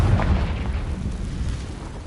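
A Confringo spell explosion in the Hogwarts Legacy video game, a loud, deep, rumbling boom that fills the whole short moment with heavy low roar.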